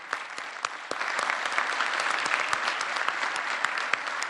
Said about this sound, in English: I'd like to really applaud you guys for helping us out.